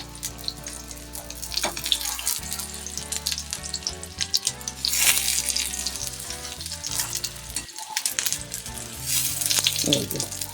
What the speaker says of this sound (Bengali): আমি এবার পিঠগুলিকে উল্টো করে করে ভেজে নিচ্ছি